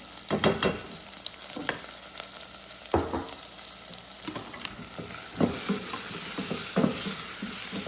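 Onion with turmeric fries in a pan for plain daal, with a spoon scraping and stirring in several bursts over a constant sizzle that grows louder and steadier toward the end.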